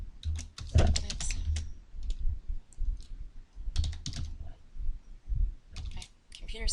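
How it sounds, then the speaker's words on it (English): Bursts of clattering keyboard typing, close and fairly loud, in quick irregular runs with pauses between them. "I can't see what I'm typing here."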